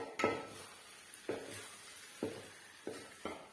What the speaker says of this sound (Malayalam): അട ഇതിലേക്ക് ഇടാം. ഈ അടയിലൊന്ന് നെയ്യിലൊന്ന് വരട്ടിയെടുക്കണം.